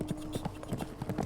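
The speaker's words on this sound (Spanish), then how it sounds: "unos pasos de caballo" Horse hooves clip-clopping at a steady walking pace, a quiet, close sound effect within a Venezuelan legends podcast story, each hoofbeat distinct and evenly spaced.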